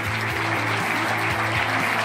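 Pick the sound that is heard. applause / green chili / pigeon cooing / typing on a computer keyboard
applause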